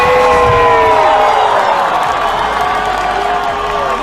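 A large crowd at a concert in Cuba roars and cheers steadily, a loud, dense wash of voices and applause that barely changes for a few seconds.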